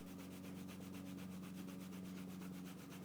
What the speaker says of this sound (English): that is just the burnishing gum, and then I'm going to polish that in